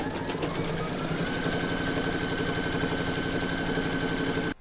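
An embroidery machine stitching fabric, backing and batting held in a hoop for a lace zip bag, a fast steady mechanical rattle and whir running continuously and close, then stopping abruptly.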